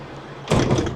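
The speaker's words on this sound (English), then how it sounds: "side loading door." The side loading door of a Kia PV5 Cargo electric van slides open with a sudden loud rolling clunk and rattle, close by, after a moment of quiet room tone.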